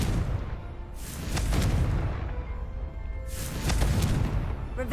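The Confringo fire spell in Hogwarts Legacy bursts into two loud booming explosions about two seconds apart, each with a deep rumble and crackling tail.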